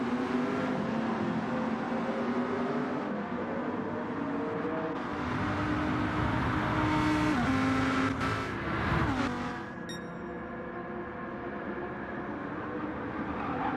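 Lamborghini race cars in a sim racing game lap under sustained, layered engine drone, with revs rising and falling through gear changes and a brief dip near the end.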